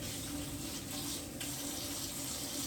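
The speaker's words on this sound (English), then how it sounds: "And so I always rinse my food first." Tap water runs steadily in a sink as freshly harvested lettuce is rinsed, a close, continuous hissing splash without talk.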